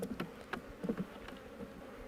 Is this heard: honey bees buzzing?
yes